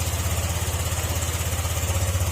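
A Honda Click 150 scooter engine idles up close with a steady, rhythmic low putter and no voices.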